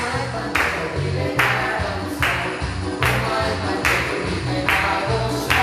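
Church congregation clapping hands in a steady rhythmic beat along with worship music, loud and continuous with repeated sharp bursts.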